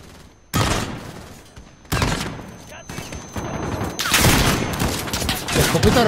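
Shotgun blasts in Call of Duty Modern Warfare's airport infiltration campaign mission, several loud booming shots spaced a second or more apart, each trailing into a rumbling tail, with denser gunfire building toward the end.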